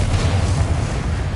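A fiery Confringo spell blast from Hogwarts Legacy, a sustained loud booming burst with deep rumble filling the whole moment, no voices over it.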